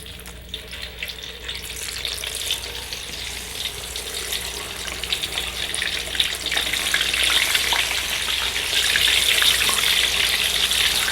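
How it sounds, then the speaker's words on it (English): Dried tofu pieces deep fry in hot oil, a dense continuous sizzle and bubbling that grows slightly louder and brighter toward the end, close and alone without talk. "let's deep fry our dried tofu pieces here."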